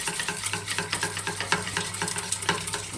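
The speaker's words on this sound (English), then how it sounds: "keep on whisking. Just make sure you get all those lumps" Roux-based white sauce being whisked in a pan, a rapid rhythmic swishing and scraping of the whisk with a light bubbling sizzle underneath, close and steady.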